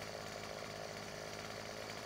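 A chainsaw cutting tree branches in Farming Simulator 15 gives a steady, continuous engine buzz for about two seconds, with no one talking.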